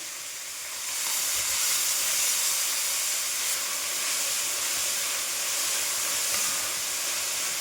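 Ginger garlic paste sizzles in a hot frying pan, a steady loud hiss that swells after the first second and holds without pause, with no one speaking.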